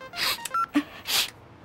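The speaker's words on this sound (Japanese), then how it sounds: "お、電話だ。" An electronic telephone rings in short bursts of bright, beeping tones, fairly quiet and with no voices over it.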